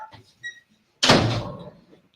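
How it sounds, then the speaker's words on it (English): A front door is pushed shut with a single firm thud that rings out and decays over about a second, heard close after some brief low murmuring. "let me close the door"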